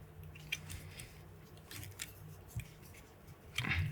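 Scissors snip away material while a Zoo Cougar sculpin streamer is tied on a vise, giving soft, close cuts under a faint room hiss, with a slightly fuller snip at the end.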